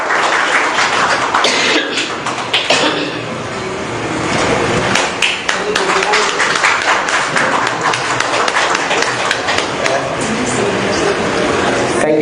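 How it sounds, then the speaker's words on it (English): Sustained applause from an audience at an institute's inaugural function, dense clapping filling the whole stretch without pause. "ladies and gentlemen a big round of applause."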